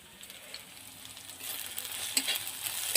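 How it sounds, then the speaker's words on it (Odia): Onions fry in a pan as the base for a chicken curry. A close, steady sizzle grows louder, and a few stirring scrapes come through. "ପିଆଜ ଭଜା ହେଉଛି"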